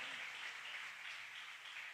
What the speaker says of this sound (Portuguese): Você pode aplaudir a Ele por isso, irmãos?